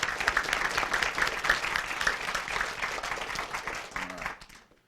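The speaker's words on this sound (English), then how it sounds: "Give him a round of applause, please." An audience at a 2017 Poudre School District spelling bee claps steadily, a dense patter of many hands that fades out at the end.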